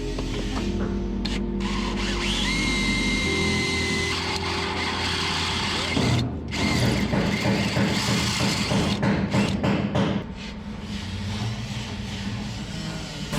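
A drill boring a hole in a metal part clamped in a shop vise: a loud, close motor whine that holds steady, then shifts pitch, breaking into rough, chattering cutting noise midway before easing back to a steadier hum.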